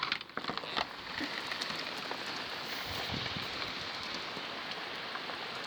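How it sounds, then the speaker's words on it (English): Heavy rain pouring down outside a balcony, a dense, steady hiss of drops striking surfaces, with a few sharper patters at the start. "That's rain."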